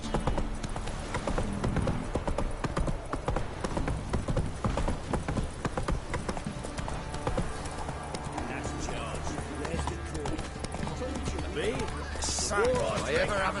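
Horse hooves pound at a run in The Witcher 3 on PS4, a steady busy clatter heard close throughout beneath game music and voices.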